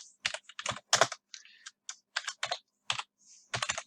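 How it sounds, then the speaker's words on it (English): Rapid bursts of keystrokes on a computer keyboard tap out text in uneven clusters with short pauses, close and clear with no talking. "So I just type that in there."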